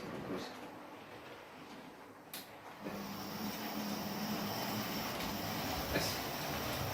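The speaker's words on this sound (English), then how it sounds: "Let's go see some trains going around the railway." A model train runs around a model railway with a low, steady rumbling whir that grows slightly louder over several seconds, joined by a few small clicks and with some faint speech.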